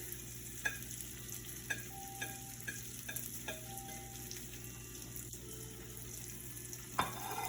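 Garlic frying and being stirred in a pan while cooking dal, a steady quiet sizzle with scattered stirring clicks and taps throughout, no talk.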